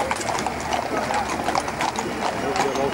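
Horse hooves clip-clop at a steady walking pace at a Schützenfest in Kleinenbroich, mixed with crowd noise and voices nearby.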